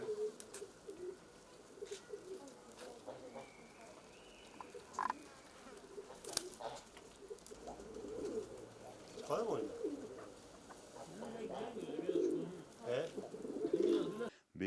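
Pigeons in Van coo and burble in low throaty rolls, several birds close by calling in overlapping bursts that swell toward the end, with faint voices and rustling in the background.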